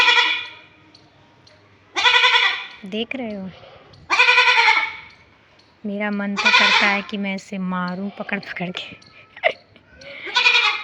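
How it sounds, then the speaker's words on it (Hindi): A goat inside a house bleats loudly several times in drawn-out, wavering calls, with someone talking between and over the cries. "ये बकरी यहाँ अंदर आवाज़ लगा रही है"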